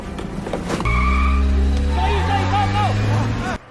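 A car in a film scene revs up hard, its engine climbing in pitch over a few seconds, loud and close, with a high squeal riding on top before it cuts off.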